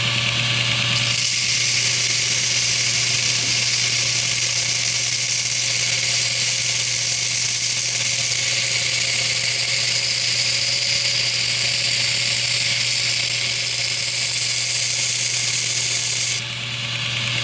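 A grinder hollow-grinds a knife blade, carrying the grind line out into the choil. A loud, steady high-pitched whine and hiss runs unbroken for the whole stretch, close up and with no voices.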